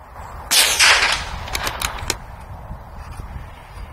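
A .22 LR rifle fires during target shooting practice: one sharp, loud report followed by quieter clicks and a few faint snaps, heard outdoors at close range.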